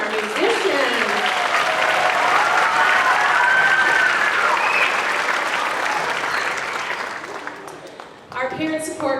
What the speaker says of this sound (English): Let's give another round of applause so far for our musicians.